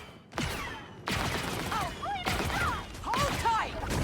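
Gunfire in a video game: four sharp, heavy bangs spaced about a second apart, each with a short ringing tail, mixed with other game sounds.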